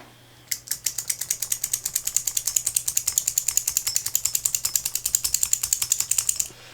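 Old Heathkit IT-12 switch being clicked rapidly back and forth while switch cleaner is worked in, a fast, even train of dozens of crisp ratcheting detent clicks, close up and alone.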